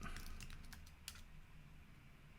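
Fingers tap out a password on a computer keyboard in a short, quick run of soft clicking keystrokes, faint and close, with a few sharper taps among them.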